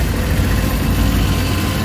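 A Suzuki DA64W turbo engine, just fitted with a replacement camshaft, idles smoothly with a steady, low, even hum and no roughness, alone with no talk.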